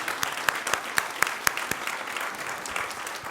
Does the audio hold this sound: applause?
yes